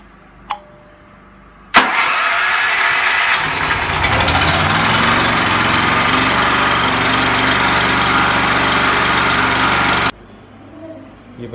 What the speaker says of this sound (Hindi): अभी जनरेटर लगाने लगा हूँ